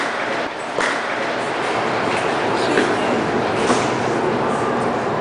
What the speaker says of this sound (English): When the metro comes.